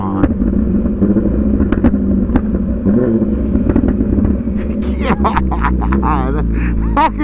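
An MV Agusta motorcycle engine revs up close and loud with popping exhaust burbles, rough and continuous throughout, as someone talks excitedly over it.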